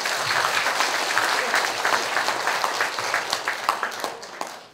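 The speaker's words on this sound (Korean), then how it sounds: "나오실 때 박수 부탁드리겠습니다." Audience of elderly people at a welfare center's monthly meeting applauds as the director comes forward, a dense, steady clapping that holds throughout and thins out at the very end.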